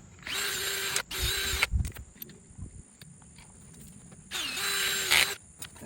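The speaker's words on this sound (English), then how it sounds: "we're gonna keep drilling down until we find the end of it" Power drill boring down into the ground while pulling trap sets, running in several loud whining bursts with pauses between them.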